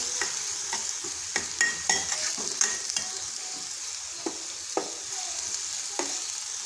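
Green chilli thecha roasting in hot oil in a pan, a steady background sizzle broken by repeated sharp scraping stirs and clinks of a spatula at an irregular rhythm, close and fairly quiet, with no talking.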